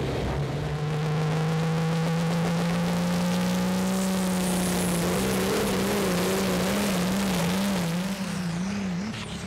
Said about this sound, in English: Oh dear, something blew under the bonnet, and that will keep him busy in the workshop for a while.